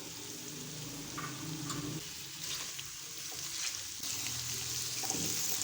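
Potatoes frying in a pan with salt for a dahi aloo masala, a continuous close sizzle with faint scraping and stirring, the hiss swelling louder toward the end.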